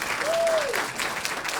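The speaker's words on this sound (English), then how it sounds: "Round of applause for our panelists." Audience applause for the panelists at a youth strategy panel event, a steady dense burst of clapping filling the short moment with a brief voice-like tone rising through it.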